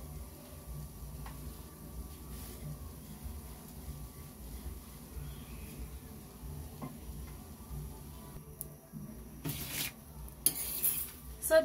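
A carrot chapati is turned in a pan, with faint sizzling and quiet scraping and clinks of utensil against the pan, growing into louder clatters near the end.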